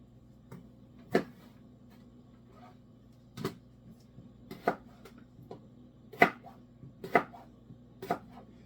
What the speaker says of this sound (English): I'm going to cut up 2 little zucchinis to make into zucchini slices.